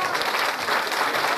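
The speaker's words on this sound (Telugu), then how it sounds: "చప్పట్లు కొడతామండి." Audience applause greeting a guest stepping onto a stage at a public gathering, steady dense clapping from a crowd that fills the whole short stretch at an even level.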